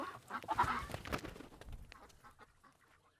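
Ducks on an organic farm give a few nearby quacks and honks, loudest early and fading into quieter calls toward the end.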